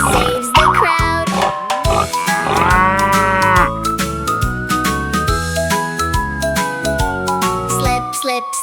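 A cartoon cow moos in a bright children's song about a cow driving a fire truck, the long drawn-out lowing sung loud and musical over backing melody with jingles and siren-like tones.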